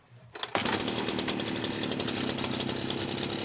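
Stark 38 petrol brushcutter with a fault that makes it stall under throttle fires up after a brief rattle and then settles into a loud, steady, buzzing run close by.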